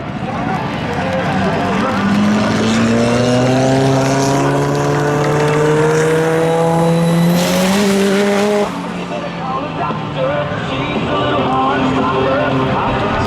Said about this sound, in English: y Klein returns in hot fashion here tonight, picking up the Spectator Drags